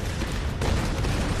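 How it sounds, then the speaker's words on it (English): Explosions go off during combat in the video game Tomb Raider: a loud, dense wash of rumbling blasts with one sharper burst midway, continuous and without speech. "Man, sure a lot of explosions in this bit of the game."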